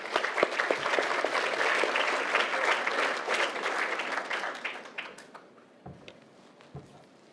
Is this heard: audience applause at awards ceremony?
yes